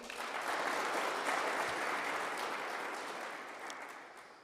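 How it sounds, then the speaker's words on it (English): Audience at an upstream petroleum local content policy consultation in Nkurenkuru applauding the governor, a dense, steady clapping that swells and tapers slightly, filling the whole stretch with no voices over it. "can we give the Honorable Governor another round of applause?"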